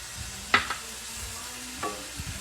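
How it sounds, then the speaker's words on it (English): Peppers and onions hit a pan and get stirred, with a few soft scraping clicks from the spoon over a faint, low sizzle and no talking. "I'm going to go ahead and start putting my peppers and my onions in"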